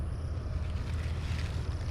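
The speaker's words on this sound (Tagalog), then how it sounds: "Malakas yung hangin." Strong mountain wind roars steadily against the microphone on a hillside chayote farm during a drought, a close, continuous low rumble with no pauses.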